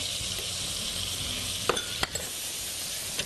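Chili pepper goes into a hot wok for a Chinese fried tofu sauce, producing a steady bright hiss of frying with a few sharp clanks and scrapes from stirring.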